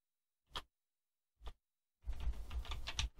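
Someone types a file name on a computer keyboard. Two single key taps come first, then a quick, continuous run of close keystrokes, with no talking.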